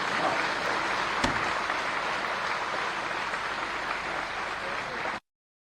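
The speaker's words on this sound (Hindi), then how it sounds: "एक बार जोर से तालियां बजाइए।" A large crowd aboard the Indian Navy aircraft carrier INS Vikrant applauds for the Indian Navy, a dense, steady roar of clapping that continues for about five seconds and then cuts off abruptly.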